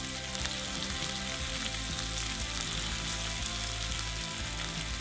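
Snow crab meat sizzles hard in a hot frying pan, a loud continuous close-up crackle and hiss with a low steady hum beneath and no speech.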